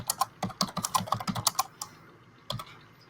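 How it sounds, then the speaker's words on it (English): Fingers tap on a computer keyboard in a quick, uneven burst of close clicks. A pause follows, then a single final keystroke. "a minute or so of him typing away"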